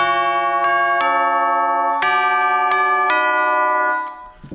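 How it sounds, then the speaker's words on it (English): Tubular chimes ring out in a handful of bright, bell-like strikes with long shimmering overtones that overlap and hang in the air, then die away near the end. "Chimes."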